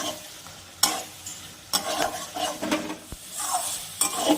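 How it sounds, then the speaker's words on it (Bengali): Potatoes being stir-fried in a pan with spice paste, a soft sizzle beneath repeated scraping and stirring strokes of a spatula, with occasional metallic knocks against the pan. "এবার এর মধ্যে আমি আলুগুলো দিয়ে দিচ্ছি আলুগুলো নিয়ে অল্প কষিয়ে"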